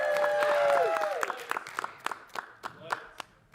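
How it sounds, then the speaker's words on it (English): At a talent show, a sustained vocal call from the stage gives way to scattered, sharp claps and a few cheers from the audience, thinning out toward the end. "Let's hear this big, giant crowd."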